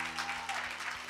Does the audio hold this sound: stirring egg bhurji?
no